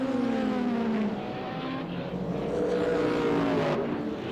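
A 1990 Sauber Mercedes Junior Team race car sweeps past on a circuit, its engine whining in a loud sustained tone that shifts in pitch as the car goes by, with a second engine audible underneath.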